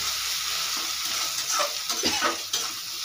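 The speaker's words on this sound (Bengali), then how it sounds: "খুব ভালো করে মিশিয়ে নেব পেঁয়াজের সঙ্গে" Ginger garlic paste being stirred with onions in a frying pan, a steady broad sizzle with scraping strokes of a spoon clustering near the end, close and fairly loud, no voices.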